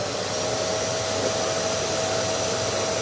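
A workshop vacuum cleaner runs for dust extraction, a steady loud whirring hiss with a constant tonal whine, unbroken and alone with no voices.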